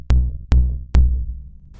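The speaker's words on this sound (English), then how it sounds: "we start with a kick drum just to hear the decay" Three dry kick drum hits from a modular synth, evenly spaced and loud, each a punchy low thump with a short natural decay and no added reverb.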